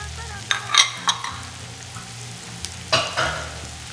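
Leeks added to butter in a pan with onions, nutmeg and white wine: a low steady sizzle under several sharp scraping and clinking stirs, close, with a low hum beneath.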